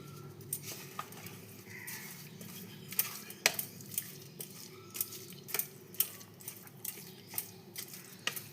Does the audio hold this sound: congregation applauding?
no